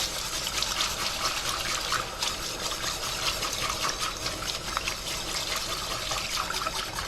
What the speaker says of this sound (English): at this point I'm going to add whole milk